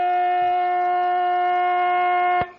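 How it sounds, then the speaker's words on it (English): A loud, steady electric siren sounds at a 1982 Division 1 seniors Australian football semi-final to mark the end of the quarter, holding one sustained tone for over two seconds before cutting off abruptly. "the point to Woori Yallock as the siren goes"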